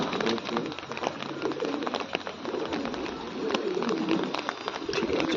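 Several pigeons coo steadily close by in a loft during the rainy season, their low throaty calls overlapping with faint chirps and rustling throughout.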